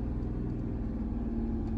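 A car engine runs at a steady, close mid-pitched hum during a first-time driving lesson on clutch and accelerator, with no noticeable revving in this short stretch.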